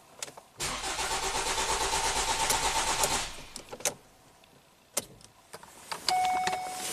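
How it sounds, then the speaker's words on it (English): A 2017 Ford Transit engine cranks for about three seconds with an even, rhythmic whirring pulse but never catches, followed by scattered clicks and clunks from inside the van. "the car will be a crank no start."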